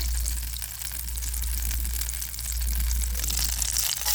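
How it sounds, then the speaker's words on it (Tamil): Steady soft sizzling of butter melting in a hot pan, a continuous hiss with a low hum underneath and no talking. "இந்த பட்டர் நல்லா உருகட்டும்"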